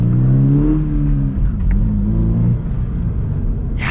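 A 2023 Subaru BRZ Limited with a manual gearbox accelerates hard, its engine note climbing and dipping between shifts in a loud, close, rumbling rev.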